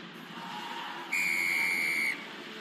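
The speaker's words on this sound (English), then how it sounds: "Referee Paul Williams sounds the whistle, and we are underway here in Japan" A single sharp referee's whistle blast at a rugby match between Australia and Japan, held for about a second, cutting over a low crowd murmur.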